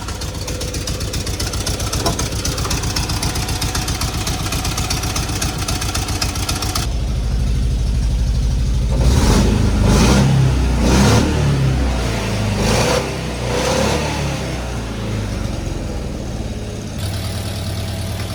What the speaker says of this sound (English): got a little bit of a leak in the exhaust, but other than that, man, it's purring.